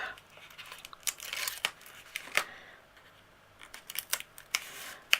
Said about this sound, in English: I'm going to peel all this up